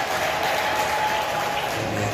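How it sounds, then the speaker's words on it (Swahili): A congregation in a large church breaks into applause, a steady dense wash of clapping with a thin high tone running through it, sustained throughout. "Tumkaribishe kwa makofi na vigelegele."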